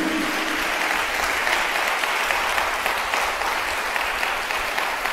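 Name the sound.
congregation applauding in church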